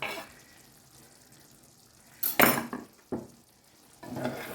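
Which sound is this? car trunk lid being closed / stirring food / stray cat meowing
stirring food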